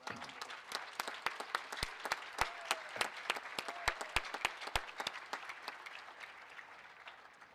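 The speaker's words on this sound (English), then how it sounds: "Let's give everyone a big round of applause" Scattered, distinct handclaps at a business school commencement ceremony, a thin crowd clapping at a moderate distance that gradually thins and fades toward the end.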